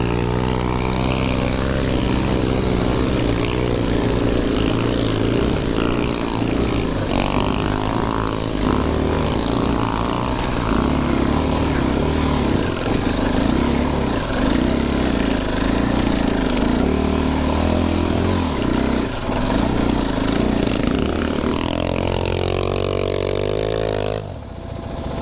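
A Kawasaki KLX140R dirt bike engine drones loudly and steadily on an off-road ride, revving up and down with wind buffeting over a close, sustained run before it cuts off abruptly at the end.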